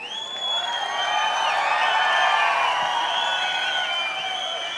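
A large stadium crowd at a motivational program in Pune applauds and cheers steadily, a dense wash of clapping and whoops that swells slightly midway and holds loud throughout, with no speech over it.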